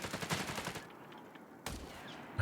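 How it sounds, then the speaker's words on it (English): Gunfire in Company of Heroes 3 comes as a rapid burst of shots at the start, then quieter battlefield noise, and another sharp report near the end, all fairly faint. "as soon as the first gunshots pop off"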